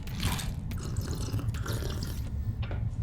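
Water drunk in Subnautica 2 gives a brief liquid dripping, trickling sound, close and steady, with a low rumble underneath for the full three seconds.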